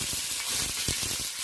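Paneer pieces frying in hot refined white oil in a wok give a steady, close sizzle, with soft pops and stirring scrapes under the hiss.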